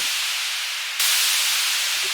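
A white noise drop effect for a progressive house track: steady broadband hiss that jumps brighter and louder about halfway through, then holds, sounding alone with no voices.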